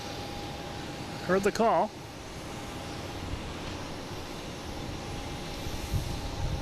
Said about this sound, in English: we get the Porter taking off